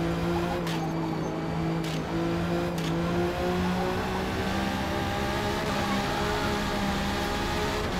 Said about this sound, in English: Listen to the backfires too